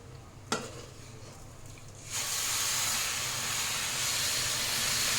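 Semolina halwa stirred in ghee as milk goes in, a single sharp knock followed by a quiet stretch, then a sudden loud, steady hiss of steam and sizzling that continues to the end.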